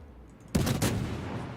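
American destroyer guns open fire in the naval game World of Warships: one sudden loud booming blast, then a second burst and a long rumbling tail, with no talk.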